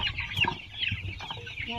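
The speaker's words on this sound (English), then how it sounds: "There are some roosters in here." Roosters and chickens cluck in a homestead coop, with a few short, faint, scattered clucks close by in a quiet space.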